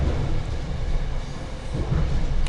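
Inside a moving passenger train near Kaliningrad, a constant loud low rumble with steady rattling and faint rhythmic wheel noise, no voices.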